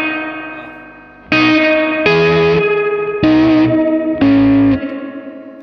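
Matchless HC-30 guitar amp cranked to high volume, its reverb breaking up into distortion. Four loud, sustained guitar chords ring out one after another with a gritty, saturated wash, heard alone and close.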